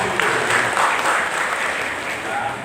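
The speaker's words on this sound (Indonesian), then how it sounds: "Tepuk tangan untuk Aisyah." Applause from an audience at a Sunday morning religious gathering, broad and continuous clapping from many people, loud and near, with some crowd murmur under it.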